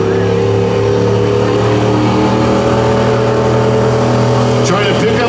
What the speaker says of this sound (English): You hear the engine change.